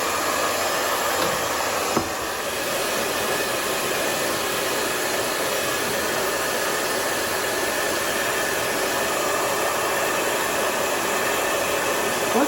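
A heat gun blows hot air onto tape to melt its glue, a steady loud whooshing roar held evenly throughout with one small click near the start and no talk.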